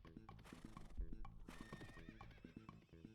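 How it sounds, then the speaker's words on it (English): Horse neighs and whinnies repeat over rhythmic clip-clop hoofbeats woven into Equius' theme music from Homestuck, a bouncy looping tune at moderate volume. "Even with all the horse sounds in the background, it's a completely banger."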